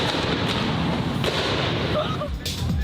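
A modified car's exhaust crackles and pops while the engine revs at a rev battle of supercars and JDM cars, shooting sparks and flames; loud, continuous bursts with crowd voices mixed in.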